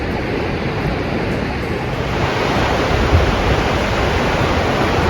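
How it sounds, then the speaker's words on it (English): Takakkaw Falls in Yoho National Park, British Columbia, pours into the Yoho River with a loud, steady, broadband roar of crashing water and spray, unbroken and with no talk. "Takakkaw Falls, and on your right side, a little bit behind, you have a river, Yoho River."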